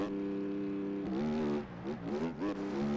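A motocross bike engine in the MX Bikes video game drones at steady pitch, then revs up and down in quick throttle blips, a buzzy mechanical whine heard alone.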